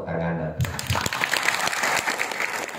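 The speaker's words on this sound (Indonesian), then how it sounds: "mohon tepuk tangan" An audience at a village dharma talk by a regent in Bali breaks into applause, a steady crackling patter of many hands following a brief spoken phrase, continuing under scattered voices.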